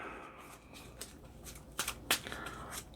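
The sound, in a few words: shuffling a deck of game cards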